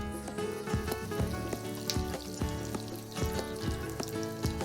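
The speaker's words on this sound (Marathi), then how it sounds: "तेल गरम झाल्यावर यामध्ये अगदी चिमूटभर मीठ घालायचं, चिमूटभर मोहरी, चिमूटभर जिरं, हिंग, 3-4 कढीपत्त्याची पाने" Mustard seeds, cumin, hing and curry leaves hit hot oil in a pan with a pinch of salt for a radish bhaji tempering, giving a steady close sizzle with small crackles and pops throughout, no voices.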